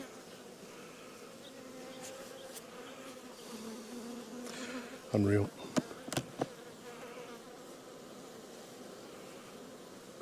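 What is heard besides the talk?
bees buzzing around hive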